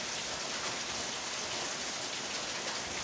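Heavy rain pours steadily and loudly, a dense unbroken hiss of falling water with no pauses and no voices.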